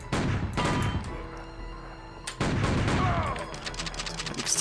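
Several gunshots in Outlaws, the old-west shooter set in Wharf Town, bang out loud and close in uneven bursts with thuds between them.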